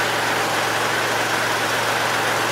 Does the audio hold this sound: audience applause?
no